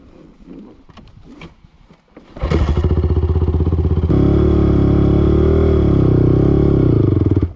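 A quad bike (ATV) engine starts with a clatter, then idles loudly nearby and is revved up into a sustained, rough, buzzing roar that holds to the end.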